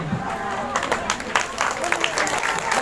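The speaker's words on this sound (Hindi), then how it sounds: "ताली बजाई, ताली बजाई।" Audience clapping at a Sunday healing prayer meeting, a dense patter of hands under a loud voice leading the crowd, steady throughout.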